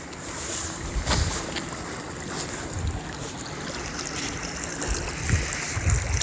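Water flows steadily along a canal beside a rice field on a morning walk outdoors, a continuous rushing wash with light wind and occasional faint bumps and footsteps.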